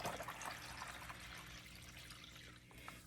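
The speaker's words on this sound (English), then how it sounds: "I'm throwing the ozonated distilled water in" Ozonated distilled water pours into a watering jug, a soft, continuous trickling splash that stays faint and close throughout, with no talking.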